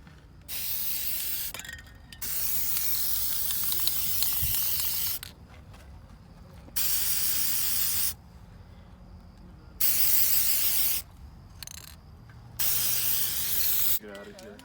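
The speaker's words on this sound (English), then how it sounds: "Someone gave us spray paint, so now we have spray paint to spray paint the cars." Spray paint cans hissing onto old Cadillacs buried nose-down in the ground, in loud bursts of a second or two separated by silent gaps, with short stretches of quieter background between sprays.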